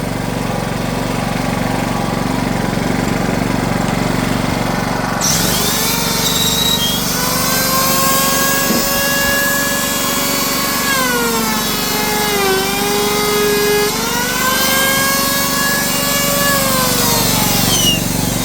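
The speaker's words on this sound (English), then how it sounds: "when there's no load, the engine revs drop down" A small 3.0 kVA Generator King gasoline generator engine runs continuously and close by, its pitch rising and falling as the revs shift with load, with a steady low hum beneath.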